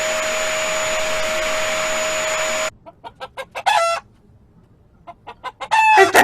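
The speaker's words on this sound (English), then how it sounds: "It's a chicken." Chicken clucking in short bursts, loud and close, alone after a steady vacuum cleaner drone cuts off, with a louder run of clucks near the end.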